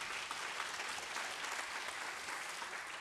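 Faint but steady applause from a church congregation at a Friday prayer meeting, dense even clapping from a crowd heard at a distance for a few seconds.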